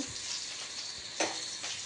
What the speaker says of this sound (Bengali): আর এই যে কিছু ভাজা হচ্ছে